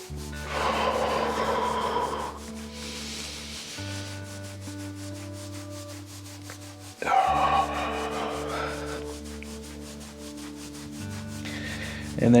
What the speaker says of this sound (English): So I'm just at the back of the knee, rubbing up and down.